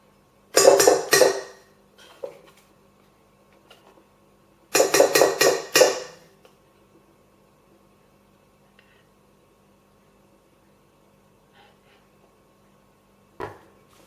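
A spoon scoops solidified coconut cream out of a container in two loud bursts of clinking, scraping clatter with quiet gaps between. A single faint knock follows near the end, and no one speaks.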